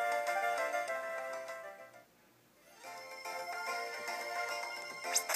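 A video game phone from Pokemon White 2 rings with a bright, repeating electronic chiptune melody, loud and continuous apart from a short dip in the middle, with no voices.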